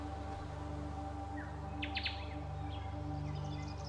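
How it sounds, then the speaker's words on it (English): Faint birds chirp in brief bursts over a steady low ambient hum and music drone in the game Oxenfree II, a few short tweets scattered across the scene with no one talking. "I can even hear I can even hear birds"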